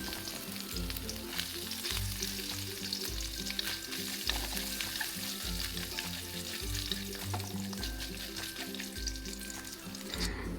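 Small chopped coconut pieces fry in hot ghee with a steady, dense sizzle and occasional stirring scrapes, continuing close and loud throughout over soft background music.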